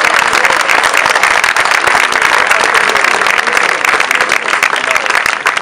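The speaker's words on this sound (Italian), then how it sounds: "a cui farei un applauso" A large crowd at a library inauguration in Gaggiano bursts into loud, dense applause that holds steady throughout without letting up.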